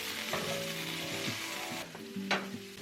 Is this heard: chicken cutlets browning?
yes